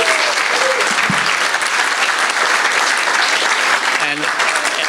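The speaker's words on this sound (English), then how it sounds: "I'd like to hear a round of applause for Bernie for running this organization for" An audience at an awards dinner applauds, a dense, loud, even wash of clapping that runs the full length.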